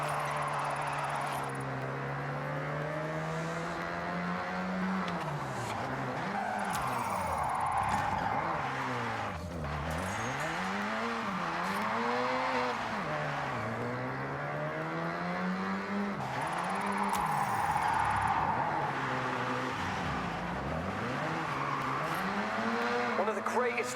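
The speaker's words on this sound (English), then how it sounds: "If you don't drift with style, it's just skidding." Drifting tires squealing in the Forza 6 racing game, with long wavering screeches that swoop and bend as the car slides through repeated drifts under a steady engine drone. A voice talks over parts of it.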